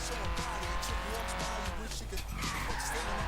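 Tires screech as a car skids in Forza Horizon 3 while heading off-road, a continuous squeal under steady engine noise, with a person talking over it.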